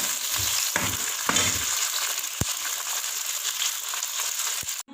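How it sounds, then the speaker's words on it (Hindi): Onions fry in ghee for a chicken palak gosht, giving a dense, even sizzle up close with a few soft stirring scrapes and clicks, and no talking. "सबसे पहले हम इसमें प्याज ऐड करते हैं। प्याज हम ब्राउन कर लेते हैं।"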